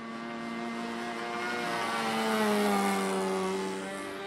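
A Great Planes Escapade 40 RC airplane with a .40-size glow engine flies over pasture land. Its buzzing, high-pitched drone swells as it passes closer, then eases off, with its pitch slowly sliding. No voices are heard.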